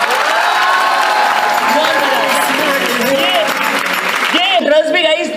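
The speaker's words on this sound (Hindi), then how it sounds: "बजाओ ताली एक बार।" Audience applause at a lively Hindi-language talk, a dense steady roar of clapping with cheering voices mixed in throughout, thinning briefly near the end.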